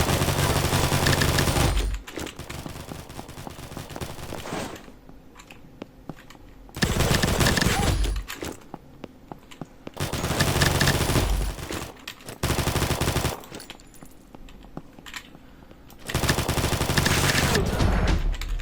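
Gunfire in the first-person shooter Combat Master, with loud bursts of rapid automatic fire alternating with quieter gaps, close and heavy, repeating in several long volleys.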